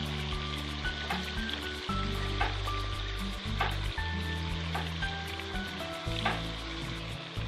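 Finely chopped tomatoes sizzling in a pan with crushed ginger and garlic for chicken biryani, a steady frying hiss broken by clinks and scrapes of a spoon stirring.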